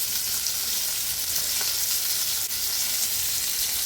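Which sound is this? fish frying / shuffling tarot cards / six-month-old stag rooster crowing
fish frying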